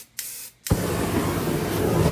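A spray paint can hisses in a steady, loud burst for spray art, preceded by a brief short spurt and pause, with no talking over it.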